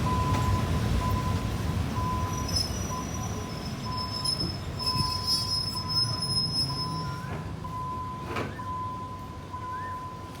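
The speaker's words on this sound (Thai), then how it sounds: "ขบวน 261 นะครับ ผ่านจุดตัดนะครับ บริเวณ สถานีเจ็ดเสมียนนะครับ" Thai passenger train 261 passing a level crossing at Chet Samian station, with steady rumbling wheels on rail, high squealing wheel tones and a crossing bell ringing throughout, loud and close.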